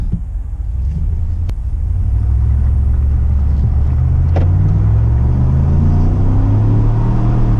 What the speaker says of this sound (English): let's take this thing for a drive. Put it in drive.